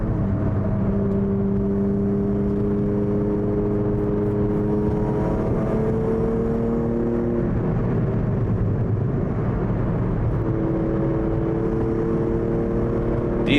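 BMW E36 track car cruising at low speed on a sighting lap, its steady engine drone with gently rising and falling tones filling the cabin throughout, no talk.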